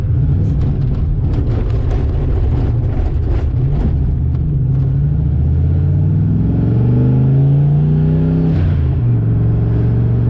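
A car fitted with a Tremec TKX manual transmission and an aggressive twin-disc clutch drives hard, its loud engine droning and revving with pitch dropping and rising through gear shifts, close and continuous.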